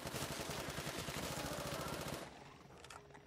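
Rapid automatic gunfire from a gun in the video game Exo Zombies, a dense, loud burst that stops abruptly after about two seconds and leaves quieter game noise.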